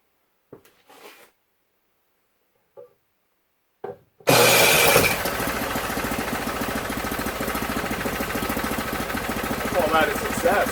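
A snow blower engine clamped to a board on sawhorses indoors catches after a few brief tries, then settles into a loud, steady running roar that carries to the end. Faint talk can be heard before it starts.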